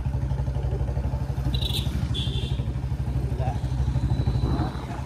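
A scooter ridden through town streets during a no-brake challenge runs with a steady, rumbling engine drone and a few brief higher tones on top, continuous and close throughout.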